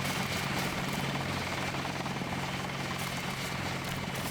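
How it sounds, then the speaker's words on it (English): A helicopter in the Deus Ex video game, near the UNATCO headquarters, drones with a steady, loud rotor and engine hum that holds evenly throughout, with no talk over it. "Quite the badass looking helicopter there."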